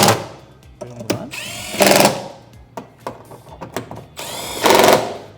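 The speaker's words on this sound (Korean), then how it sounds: "굳이 세게 조이실 필요는 없고 전동 드릴로 1단으로" An electric cordless drill on its lowest setting tightens a frunk storage unit into a Tesla Model Y Juniper, with two loud sustained whirring bursts between clicks and handling knocks.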